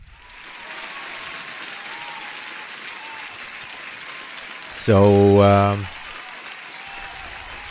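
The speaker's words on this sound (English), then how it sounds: "let me put an applause for you guys being here." Canned applause sound effect fires on a day-trading livestream, a short burst of clapping and cheering lasting about a second before cutting off, with the host talking before and after it.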